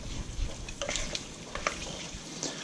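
Chunks of pork fat render down into lard, a soft bubbling sizzle with a few stirring clicks heard close.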